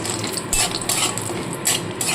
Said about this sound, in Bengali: এবার বড়িগুলো লালচে করে ভেজে তুলে রাখবো